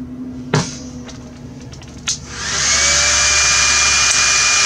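A few sharp metallic clinks from handling a small cleaned R188 bearing give way to a loud, steady rushing hiss of air as it is dried while being spun.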